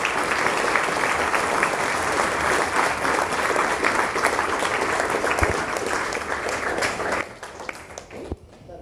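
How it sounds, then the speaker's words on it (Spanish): An audience at a talk applauds loudly and steadily, a thick sustained wash of clapping that thins out toward the end. "Un aplauso para ustedes también, por venir acá, por estar acá."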